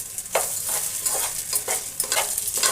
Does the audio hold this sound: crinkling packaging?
no